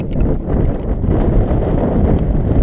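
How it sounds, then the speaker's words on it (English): Loud, heavy wind roars and buffets the microphone without a break, a dense low rumble close up, on an exposed hilltop walk at Moel Famau. "very windy now"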